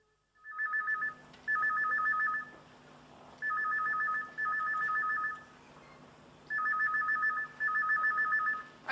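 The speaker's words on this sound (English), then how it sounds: "Isn't somebody going to answer the phone?" A telephone rings in repeated electronic double bursts, three pairs spread across the span, loud and near in an indoor sitcom setting, with a faint low hum underneath and no talk.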